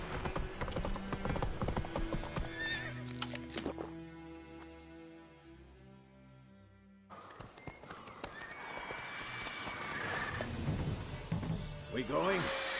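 Hoofbeats of the horse Roach galloping in the video game Witcher 3, a steady clip-clop rhythm with an occasional whinny, mixed with game music and a voice, fading midway before the hooves return loud.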